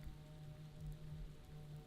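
Light rain falls as a faint, steady hiss of drizzle with a low background hum, quiet and distant, without any voices.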